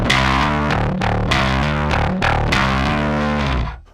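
A bass guitar played through an Ampeg Scrambler overdrive pedal with treble fully up gives loud, raspy, distorted notes in a steady riff, ringing out and cutting off at the end, with no voice.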